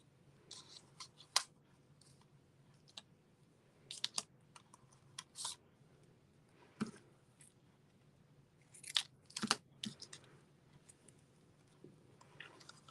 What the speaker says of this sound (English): And this, I am going to actually cut this part off.